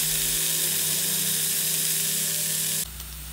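Paneer frying in butter in a pan, a loud continuous hissing sizzle held steady close up, with a faint hum underneath, then easing slightly near the end.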